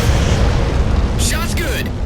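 In Halo 4, a particle cannon shot explodes, a loud, deep rumbling boom under battle talk, with a brief hissing, whooshing burst partway through.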